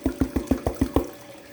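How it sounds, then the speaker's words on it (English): Water carrying 50 mesh pay dirt with the magnetics removed through a sluice box at low pressure, heard as about seven evenly spaced rhythmic surges of sloshing water that fade out toward the end, with no talk. "we're going to run some of this 50 mesh material through the sluice box here. I've dialed my water pressure down considerably"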